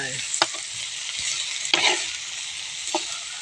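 Steady loud sizzling of pad see ew with vegetables being stir-fried in a wok, with a few sharp scraping clanks of a utensil against the pan.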